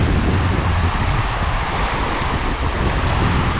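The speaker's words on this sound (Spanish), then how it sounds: "Ahí está el sonido del agua." Water lapping at the beach shore of Lago Puelo, Argentina: a steady, broadband wash of small waves, close and continuous, with wind noise over the microphone and no speech.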